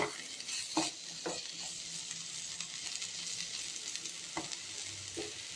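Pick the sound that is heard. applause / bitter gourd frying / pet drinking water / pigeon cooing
bitter gourd frying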